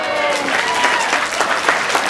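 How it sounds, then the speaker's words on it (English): Wedding guests clapping together in a dense, steady burst of applause, fairly close and filling the room, with faint chatter mixed in. "Round of applause."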